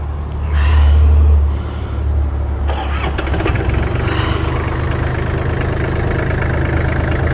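A Yanmar Japanese mini tractor with a rotary tiller and 584 engine hours cranks over loudly, catches after a few seconds and settles into a steady, close, knocking diesel idle.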